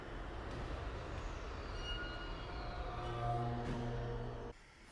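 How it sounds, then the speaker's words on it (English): Train in the animated film The Polar Express rumbling along with clattering rail noise and rising metallic tones, steady for several seconds before cutting off abruptly near the end. "The train, the train."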